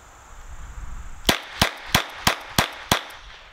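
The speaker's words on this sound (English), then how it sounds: "This is going to be with the CCI quiets again, kind of rapid fire at the target" Six rapid, sharp cracks come from an RG14 .22 revolver loaded with CCI Quiet ammunition, fired at a target. They are evenly spaced, loud and close, and each has a brief decay.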